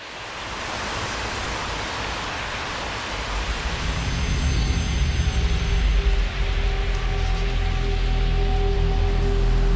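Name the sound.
rain loop sample in a music track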